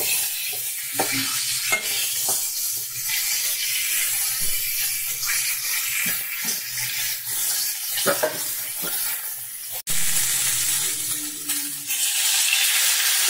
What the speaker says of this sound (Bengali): আলু আর ফুলকপি সুন্দর করে ভাজা করে নেব।